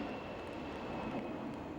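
An airliner climbs away on a go-around after wind shear pushed it low on approach, a steady, distant broadband engine roar holding at a low, even level throughout.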